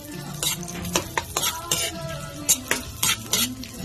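Onions sautéing in a pan for Filipino pork kaldereta, a soft steady sizzle broken by repeated sharp scrapes and clinks of a utensil stirring, close and fairly quiet with no talking.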